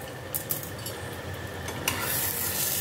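Pomfret fish frying in hot oil in a pan, a steady close sizzle with a few brief scraping stirs and a louder hiss building near the end.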